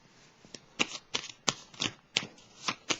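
Tarot cards shuffled in repeated crisp riffling bursts, about eight quick flutters in a steady rhythm, close and fairly quiet with no voices.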